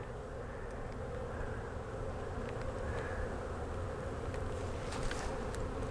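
Honey bees fly around a hive entrance during robbing, making a dense, steady buzzing drone close by with no break, and faint higher zips from single bees passing.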